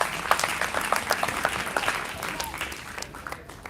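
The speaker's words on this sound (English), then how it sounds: "A big round of applause for them." A crowd applauds the under-11 winning cricket team at a youth cricket academy tournament prize giving: dense, steady clapping close up with a voice speaking over it.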